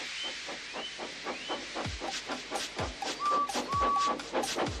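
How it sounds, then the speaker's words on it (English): A steam engine chuffs in a quick, regular rhythm of hissing puffs, with a few short whistle-like squeals above it at moderate volume. "So they lit his fire, made lots of steam, and Edward puffed away."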